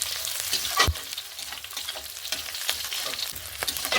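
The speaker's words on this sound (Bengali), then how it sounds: "এগুলো অল্প ভেজে মশলাগুলি দিয়ে দেবো" Whole spices with bay leaves, chopped ginger and green chillies sizzle steadily in hot oil in a pan, with intermittent stirring scrapes and a sharp crackling pop, close and continuous with no talking.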